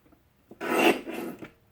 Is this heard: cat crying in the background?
no